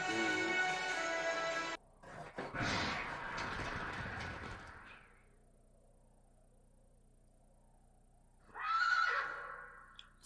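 A cartoon horse lets out a loud, wavering whinny, then a scraping clatter follows before near quiet, and a second, shorter neigh rises near the end.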